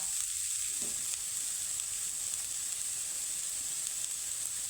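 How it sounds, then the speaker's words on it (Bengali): Potato and cabbage with chopped chillies fry in a pan with an even, unbroken sizzle, soft and close, with no voices over it. "আলুর সাথে একটু বাঁধাকপিটা আমি একটু ভেজে নেব"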